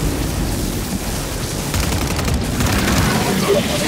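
Dense, continuous gunfire from Call of Duty Zombies, a steady wash of rapid shots with no clear gaps, fairly loud and close, with other game noise underneath.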